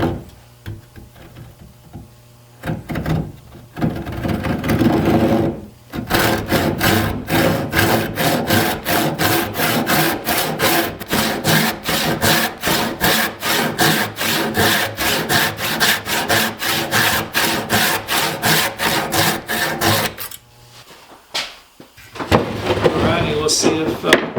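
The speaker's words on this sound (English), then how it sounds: "I'm going to cut these off and then put a dowel in them" Hand saw cutting inexpensive lumber for a homemade rocking chair, a long run of fast, even rasping push-pull strokes, framed by shorter bursts of sawing and handling at the start and end.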